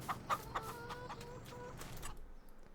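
Chickens in a Farming Simulator 22 coop cluck repeatedly in short, close calls, with a few louder squawks early on, over a faint background hum.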